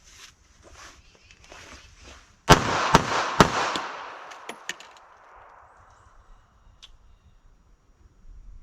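Pocket .380 pistol fired three times in quick succession at close range, sharp cracks with a ringing decay, followed by a few fainter clicks and shuffling.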